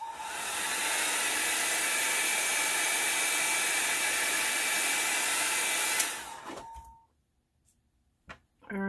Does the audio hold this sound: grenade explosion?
no